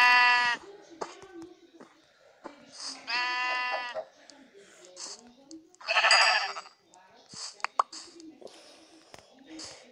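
Sheep bleat in several loud, close, wavering calls spread across the stretch, with quieter whispery voices and small handling noises between them.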